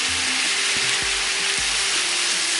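Fruit and sugar fry in a pan, the sugar melting into caramel as the fruit softens, giving a steady, close, even sizzle throughout with a few soft stirring knocks and no talk.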